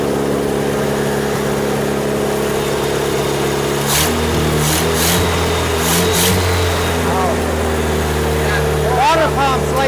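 A long-abandoned 1964 International Harvester Scout with a leaking water pump idles roughly on its first start in 40 years, then revs louder in several surges, close and steady throughout, with people talking over it.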